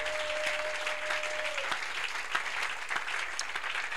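A church congregation clapping for Jesus during a prophetic service, filling the space with dense, sustained applause, a continuous wash of many hands with a few sharper claps standing out, fairly loud.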